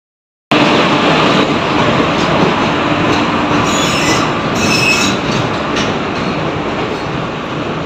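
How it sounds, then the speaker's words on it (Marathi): A train bound for Indore rolls into a railway platform, a loud continuous rumble of wheels on rails with faint squealing and clatter, steady and close throughout. "तर आता हे तुमच्यासमोर एक ट्रेन आलेली, आता ही इंदोरला चाललेली वाटते."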